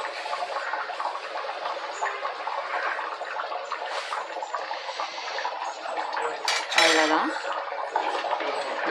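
A mixture stirred in a pot, with continuous metallic scraping and clinking of a spoon against the vessel, moderately close, and a sharper clatter near the end.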